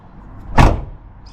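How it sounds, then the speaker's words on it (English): A door on a 2008 car shuts once with a solid, close thud, followed by a short fading rumble in a quiet setting. "And as I shut this door"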